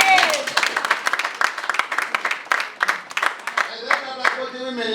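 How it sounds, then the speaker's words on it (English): Crowd at a political gathering in eastern Uganda claps for a group of women, irregular bursts of clapping mixed with cheering and voices, ending with a person shouting over the noise. "Let's clap for these Agoje women."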